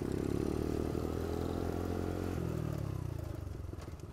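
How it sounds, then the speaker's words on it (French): An old twin-cylinder motorcycle engine runs steadily up close on a street in front of Orléans cathedral, a dense low throbbing rumble that eases off slightly near the end, with no talking. "Le bicylindre de l'époque, là. C'est ce que j'entends."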